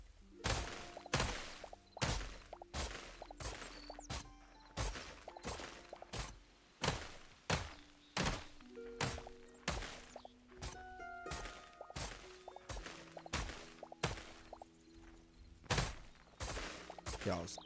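Repeated sharp thuds of dirt blocks being dug up in Hytale, a steady rhythm of punchy hits with short gaps between them and faint tones in the background.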